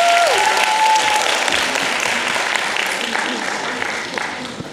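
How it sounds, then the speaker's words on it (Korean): An audience at a film festival Q&A screening of Mogadishu claps loudly for a cake presented on stage, a dense wash of applause that slowly tapers, with a voice heard near the start. "박수 한번 부탁드리겠습니다."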